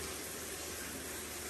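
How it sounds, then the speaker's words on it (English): Hot water tap turned on for a boiler fault check, giving a steady, broadband rush of running water that stays constant and fairly loud throughout, with no voices. "So we'll stick the hot tap on and see what happens."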